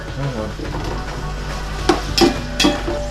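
Sliced onions and green chillies fry in a pan for a Hyderabadi fish curry, giving a steady close sizzle with several sharp utensil scrapes and taps toward the end.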